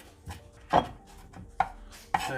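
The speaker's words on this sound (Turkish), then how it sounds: "Yarım avuç dereotu ince ince kes, ince ince." A knife chops dill finely on a board in a home kitchen, with a few crisp, separate strikes at irregular intervals and faint rubbing between them, close up and with no voices.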